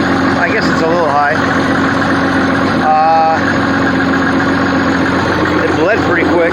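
A 1985 Oldsmobile 98 engine idles steadily just after starting following an injector pump replacement, a constant low rumble with a slightly high idle. Faint background sounds occur over it, but no words are made out.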